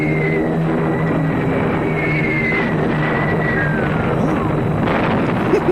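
Engines of a B-29 bomber in a film soundtrack make a loud, constant droning roar, with layered engine tones and a faint wavering whine under it.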